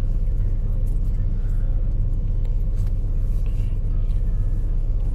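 A bus rolls along the road between Dakhla and Nouadhibou, a constant heavy low engine and road rumble with faint rattles, heard from inside the cabin.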